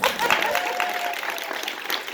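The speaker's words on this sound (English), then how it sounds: "my incredible editor, Emily, give her a round of applause" Audience applause fills a panel room at a New York Comic Con book preview, steady clapping from a crowd held for a couple of seconds with a murmur of voices underneath.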